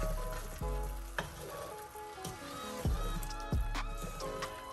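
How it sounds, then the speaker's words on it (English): Baby aubergines stirred very gently through a sizzling curry base, a steady close frying hiss with a few soft spoon knocks against the pan and no talk. "we're going to gently mix it so they get coated with the base"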